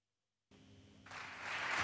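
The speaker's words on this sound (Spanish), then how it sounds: "Todos los diputados de Junts pel Sí en pie y aplaudiendo" Junts pel Sí deputies applaud in the parliament chamber. The clapping starts faintly, then swells into a dense, steady ovation that grows louder toward the end.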